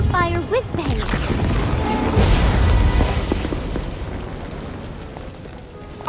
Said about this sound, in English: Looks like somebody bought out all of the Weasleys' wildfire whiz-bangs.